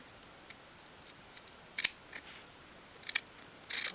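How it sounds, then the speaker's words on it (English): Small scissors snip a little off the ends of paper flaps on a 1/12 scale miniature shoe storage bench, quiet sharp cuts scattered over a few seconds, close up in a silent room. "I'm actually just going to trim a little bit off of each end"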